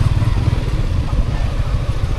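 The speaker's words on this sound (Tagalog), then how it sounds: "Abot na yung motor na dire." A motorcycle engine runs close by with a steady, rumbling low drone that stays loud and even throughout, as the bike pulls up.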